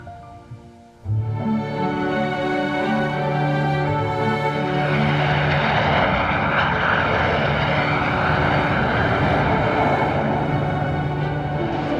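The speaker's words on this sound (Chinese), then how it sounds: "应该是他们那航班到了。" An airplane arrives at an airport, its engine roar swelling quickly to a loud, sustained rumble with a droning tone that keeps building.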